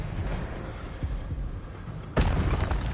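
Expelliarmus spell cast in Hogwarts Legacy: a low rumbling hum with soft thuds, then a sudden bright burst near the end that lingers.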